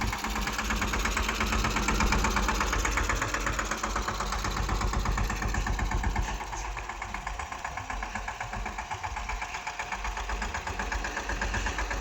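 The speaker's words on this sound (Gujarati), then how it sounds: "આ ટ્રેક્ટર હાલે છે." A tractor engine runs in a cotton field, a close, loud diesel chug with a rapid knocking rhythm that eases slightly in intensity partway through.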